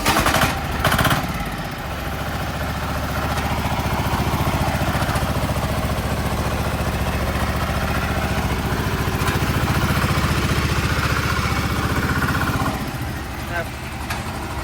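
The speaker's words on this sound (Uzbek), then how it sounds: "Xo'p, traktorimizni yondirib ko'ramiz." A ZUBR mini tractor's engine is started and runs at a steady, loud, close idle with a rough chugging rumble, a voice talking faintly over it.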